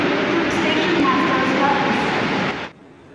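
A Mumbai local train in motion, heard from inside: a loud, dense rumble and rattle fills the space steadily for about two and a half seconds, then falls abruptly to a quiet background hum.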